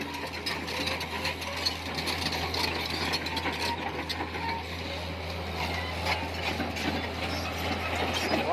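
Tata Hitachi excavator or tractor running nearby, a continuous mechanical clatter of engine and rattling machinery with a steady low hum underneath.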